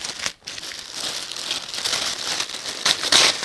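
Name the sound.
tissue paper crinkling while unpacking a dress box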